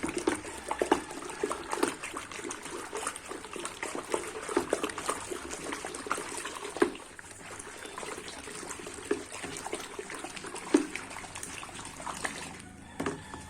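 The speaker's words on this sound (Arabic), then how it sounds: "طبعا هنقلبه كويس جدا" Liquid caustic soda is stirred into a soap paste mixture, producing a continuous faint sloshing and trickling with soft scraping and splashes, close and unhurried, without speech.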